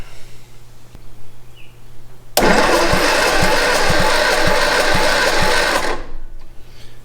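An Austin-Healey Sprite engine, stored for ten years, cranks on its starter in one steady, loud, continuous run with a rhythmic pulse of compression strokes, ending abruptly, with quiet room noise before and after.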